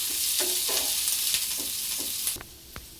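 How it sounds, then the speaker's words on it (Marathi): Onion frying in a pan for a mutton curry, a steady broadband sizzle with scattered stirring scrapes, then a quieter, thinner sizzle after a sharp scrape near the end. "कांदा आपल्याला छान असं गोल्डन रंग येईपर्यंत भाजून घ्यायचा आहे"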